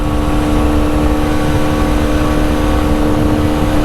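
MZ TS125 motorcycle engine running loud and close, a steady, continuous drone with a rough low rumble, held at constant revs throughout with no talk.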